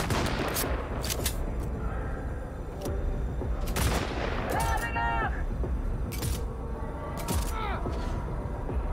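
Gunfire in Cyberpunk 2077 cracks out as several sharp shots spread across the passage over a dense game soundscape, and a player speaks at points throughout.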